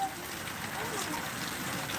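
Heavy rain falling in Kinwat taluka, Nanded district, forming a steady, even wash of hiss with no breaks in its short span.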